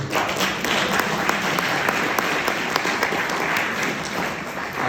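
Dense, steady audience applause fills a political gathering addressed by Scottish MP Chris Law, a close, continuous wash of many hands clapping at even loudness throughout.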